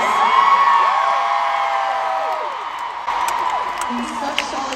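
A concert crowd at the Eras Tour at Soldier Field in Chicago, thousands of voices screaming song lyrics together in a sustained, loud, echoing roar with occasional whoops rising above it.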